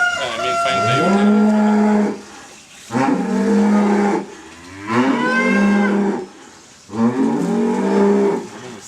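A cow lows four times in a row during an ultrasound pregnancy check, each long, loud moo separated by short pauses, close by with no talking.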